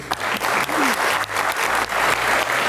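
Audience applause for finalist teams from Ganja, Sumgayit and Agstafa on an Azerbaijani TV contest show, a sustained burst of steady crowd clapping with slight swells, no talk over it.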